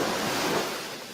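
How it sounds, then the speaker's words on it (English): Ocean waves washing in a broad, steady hiss of surf that swells slightly then eases off, heard alone without voices. "ocean sound."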